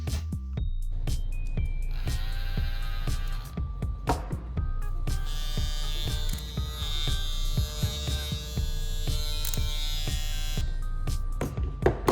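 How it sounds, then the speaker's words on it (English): A Caliber 50 Cal BMG cordless hair clipper with a magnetic motor runs steadily with a high electric buzz and hum, its pitch shifting slightly as it is moved, with faint handling clicks. "we got a bunch of other clippers, and we're gonna be doing a bit of a sound test"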